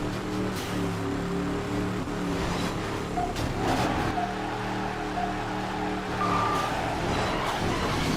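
Race car engines in a Midnight Club 3 street race with Salines, GTRs and a Pagani Zonda, droning steadily at close range with shifting pitch, brief tire squeals and revs.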